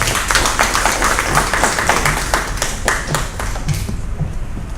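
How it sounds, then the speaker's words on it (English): Warm applause from an audience at a Caribbean health summit for healthcare providers, a loud, steady round of many hands clapping close by that carries on without a break. "Give her a warm round of applause, Dr. Tamara Boyce."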